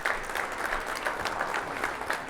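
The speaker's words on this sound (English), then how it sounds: "Let's give her a round of applause, right?" An audience at a fall 2023 outlook talk claps steadily for the speaker's wife, a dense even patter of many hands slightly distant in the room, with no speech over it.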